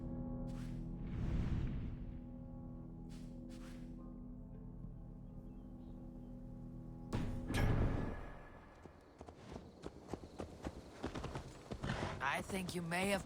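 Horse hooves clip-clop in Assassin's Creed Valhalla, a rhythmic run of close hoofbeats in the second half, following game dialogue and ambient sound earlier on.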